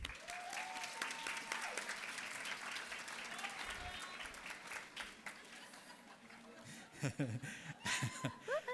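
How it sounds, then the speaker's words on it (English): A pageant audience at Miss Cayman Universe 2018 claps in sustained applause, with scattered laughter and a voice talking over it, the clapping thinning out toward the end. "And we just like to give them another round of applause."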